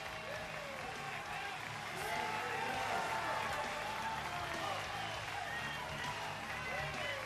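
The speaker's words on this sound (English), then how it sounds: "Crowd egging him on here." A crowd at an under-105 kg strongman competition cheers and shouts continuously at a steady, fairly loud level while a commentator talks over it.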